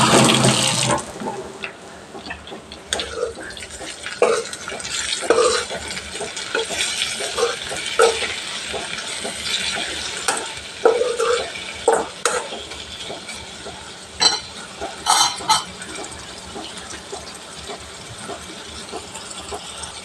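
A spoon stirs food in a cooking pot, making irregular scraping clinks and knocks over a wet, hissy background that runs the whole time with no talk.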